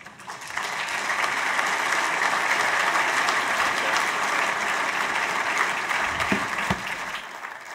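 Conference audience applauds after a naval admiral's talk on national security and fleet design: sustained, dense clapping from a large hall that swells quickly, holds steady, then thins out toward the end.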